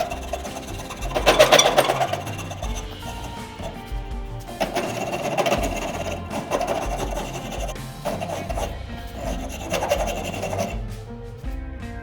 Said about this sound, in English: The handle's been rough shaped with the rasp and spoke shave.